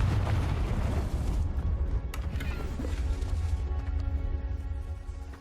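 A Confringo explosive spell fires in Hogwarts Legacy, a loud booming blast that erupts at once and rumbles on, then tails off into a lighter crackling decay over several seconds.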